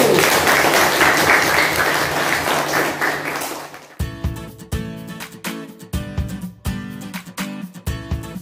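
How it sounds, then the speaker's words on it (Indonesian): Loud, dense applause from a classroom for a student group after their presentation, fading over about four seconds before giving way to short rhythmic tonal pulses. "Sekali lagi kita beri aplaus untuk kelompok 1."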